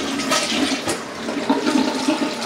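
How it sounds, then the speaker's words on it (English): A residential toilet flushes in a move-in inspection, a steady rushing gush of water that swells and churns for a couple of seconds, close and fairly loud, with no talking. "Toilet works good."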